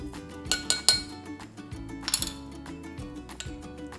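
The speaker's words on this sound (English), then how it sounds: "gonna give that a stir" A metal spoon clinks repeatedly against the sides of a small container while stirring a sauce, with sharp, close, irregular taps over a faint background hum.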